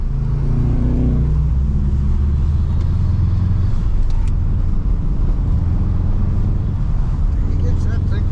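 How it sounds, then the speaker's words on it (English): A car lapping an ice track in Sweden, chasing a Subaru rally car, its engine a loud steady rumble with heavy wind buffeting throughout, the drone rising and falling slightly as it drives. "So I swallowed my pride and got back out for my last lap while trying to keep up with the Subaru rally car"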